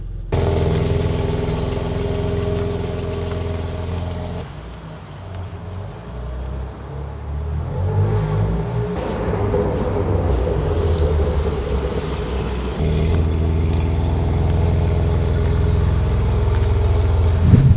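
A BMW M135i engine hums steadily at high revs during ECU tune testing, dipping briefly before climbing again, loud and continuous with no talk.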